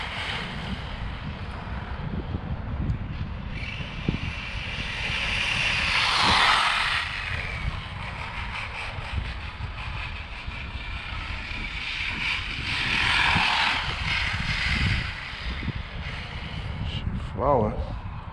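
An ECX Circuit 4x4 RC car runs wide open, its motor whining in two swelling passes over gritty rolling noise, with some wind buffeting at the microphone.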